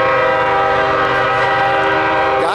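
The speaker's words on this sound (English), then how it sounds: "And got a train here." A CSX manifest freight train blares its horn loudly and continuously at close range, the rumble of the passing train running underneath.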